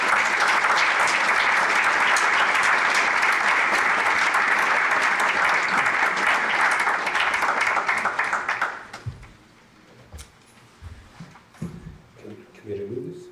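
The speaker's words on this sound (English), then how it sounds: "let us give a round of applause to Olaf for this" Lecture-hall audience at the 2019 LMU Huffington Lecture applauding the speaker Olaf, a loud, dense wash of clapping for about nine seconds that stops abruptly, followed by quiet room noise and brief talk.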